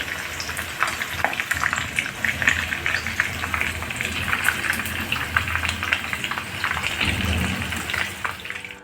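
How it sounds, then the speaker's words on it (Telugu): Chicken pieces deep-frying in hot oil for chilli chicken give a dense, continuous crackling sizzle that stays loud and steady throughout, with no talking. "ఈ విధంగా కాలాలండి లోపల బాగా మెత్తగా ముక్క లోపల ఉడికింటుంది ఈ విధంగా ఎర్ర కాలాలి"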